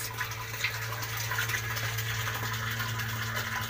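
Water pours continuously through the drain of a hydroponic Dutch bucket system, a steady splashing rush with a low mechanical hum beneath it and no pauses.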